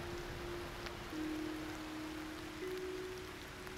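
Steady rain falling in the video game Aloft, a continuous even wash of droplet noise with a sustained tone running through it, no voices.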